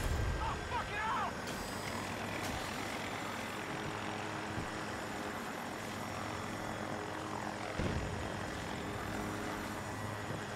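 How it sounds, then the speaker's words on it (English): An enemy helicopter in Battlefield 2042 drones steadily with a throbbing rotor hum, fairly loud and continuous, while game voice callouts sound over it. "Spotted enemy helo, 90 meters away from your position."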